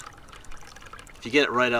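Spring water pours from a pipe on the Appalachian Trail near Lehigh Gap, a close, steady trickle that swells after faint background sound and a voice speaking over the splashing flow.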